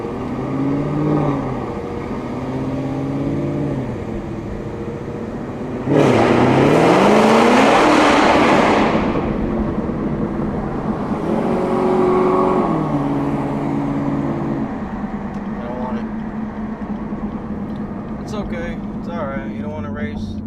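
A cammed Cadillac CTS-V idles with a lumpy burble, then accelerates hard under a freeway overpass in a loud, rising roar for a few seconds before settling back to a rough idle, with people talking inside the car.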